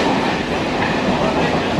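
A train runs on rails during a Sealdah trip, making a loud, steady rumble and rattle of the carriage that fills the whole stretch without a break.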